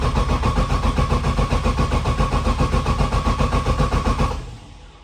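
A Volvo 240 converted to run on E85 fuel fires up and settles into a loud, rhythmically pulsing idle close by, then cuts off abruptly near the end.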